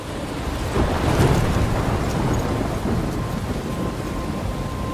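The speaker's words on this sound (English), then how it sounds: "I'm trapped in a storm?" Thunderstorm in the video game Life Is Strange: heavy steady rain hiss with deep rolling thunder rumbling underneath, loud and continuous throughout.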